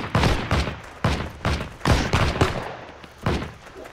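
Bursts of gunfire in the video game Heroes & Generals, a series of sharp, loud shots in quick irregular succession, some overlapping, with no talk over them.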